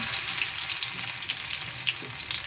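Minced garlic sizzling in hot oil with dried chillies and whole cumin, a steady bright crackle filling the clip, close and alone, with faint stirring scrapes.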